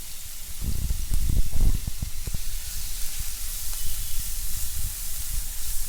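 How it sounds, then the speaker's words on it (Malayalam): Crushed shallots and green chillies sizzle in a hot pan for eggplant masala, a steady hiss broken by a few soft scraping stirs. "1 പിടി ചുവന്നുള്ളി ചതച്ചെടുത്തതാണ്. അതും കൂടി ചേർത്ത് നന്നായിട്ടൊന്ന് വഴറ്റിയെടുക്കാം."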